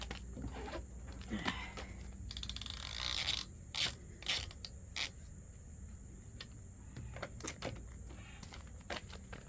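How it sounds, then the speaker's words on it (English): A ratchet loosening tight front brake bolts on a truck during a rotor and brake job, with rapid metallic clicking in bursts, close and fairly quiet, plus scattered clanks of tools. "I have to hold on to the ratchet."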